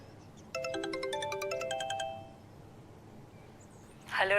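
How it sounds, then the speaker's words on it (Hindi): A mobile phone rings with a bright multi-tone melodic ringtone in a quick rising and falling pattern for about a second and a half, then stops, followed by quiet room tone. "मेरे बार बार फोन बज रहा है"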